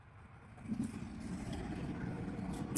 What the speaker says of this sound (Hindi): गाड़ियों की आवाज?